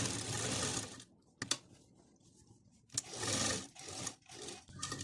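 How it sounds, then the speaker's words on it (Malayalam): A sewing machine stitches the neckline of a feeding kurti in bursts, with two longer runs of fast whirring broken by short pauses and a few brief clicks, heard close and alone. "ഇവിടെ നിന്നൊരു 1/4 ഇഞ്ച് വിട്ടിട്ട് റൗണ്ടായിട്ട് സ്റ്റിച്ച് ചെയ്ത് കൊടുക്കുക."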